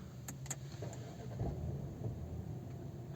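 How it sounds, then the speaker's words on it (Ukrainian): A 2018 Audi Q5 S-Line with a 2.0 TFSI petrol engine and 7-speed S tronic catches at start-up and settles into a quiet, low idle rumble, faint and close, with a couple of brief clicks early on. "Всі лампочки загорілись, машина зразу завелась,"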